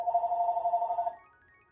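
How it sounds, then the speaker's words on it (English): A telephone bell rings steadily in one continuous burst for about a second, fairly close and clear, then stops and fades out with no voices over it. "Phone ain't been ringing all day, now you want to ring."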